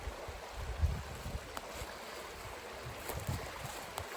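Steady broadband rush of creek water flowing over rocks at the unspoiled edge of Cross Creek in Cross Fork, Pennsylvania, continuous and moderately near, with small irregular splashes and no voices.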